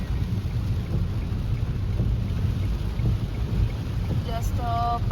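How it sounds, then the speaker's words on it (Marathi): Heavy monsoon rain on National Highway 48 makes a steady, close hiss and rumble around a moving vehicle. A few faint tones are heard near the end. "जास्त पाऊस आहे."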